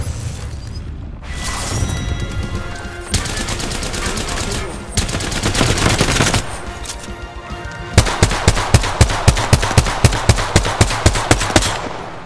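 Gunfire in the Apex Legends video game: dense automatic bursts with booms, then a rhythmic run of evenly spaced loud shots toward the end, close and dominant.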